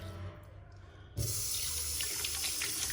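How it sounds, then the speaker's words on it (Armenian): A faucet at a public washroom sink turns on abruptly after a quiet start, and the water then runs in a steady, close hiss and splash with no one speaking. "այստեղ ծորակները"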